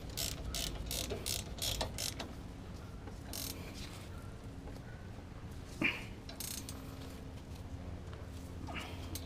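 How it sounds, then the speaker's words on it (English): A ratchet with a 15 socket tightens a front wheel bearing bolt on a 2007-2014 Chevrolet Silverado 2WD, giving faint, quick clicking bursts in short runs against a quiet garage background. "Now use your 15 socket or ratchet to do it. Tighten it up."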